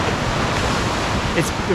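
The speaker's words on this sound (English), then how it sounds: "some of these big waves come and crash on the beach" Big ocean waves surging and crashing on Diamond Beach in Iceland at dawn, a steady loud broadband wash of surf close by, with no voices over it.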